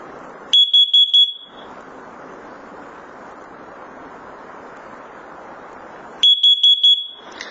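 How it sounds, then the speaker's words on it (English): A First Alert carbon monoxide detector sounds two clusters of four loud, rapid high-pitched beeps during a test, separated by several seconds of steady rushing background noise. "followed by a pair of 4 beeps"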